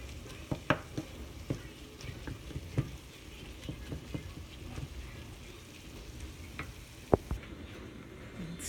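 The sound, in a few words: meat browning and sizzling in a pot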